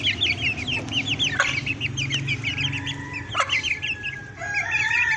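Hens and chicks cluck and peep close by, with rapid high chick cheeps over lower hen clucks and a few sharper calls, continuous and unaccompanied by talk.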